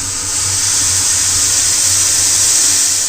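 Liquid boiling in a pot over a kitchen flame, giving a steady, loud hissing rumble with a low bubbling throb underneath that runs unbroken throughout, with no voices.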